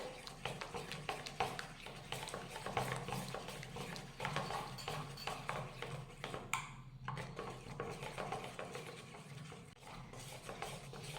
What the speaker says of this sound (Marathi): एकाच दिशेने फेटून घेऊयात